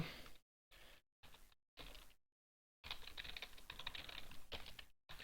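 A computer keyboard is typed on in short bursts separated by silences, then a longer run of rapid clicky keystrokes, all quiet and close.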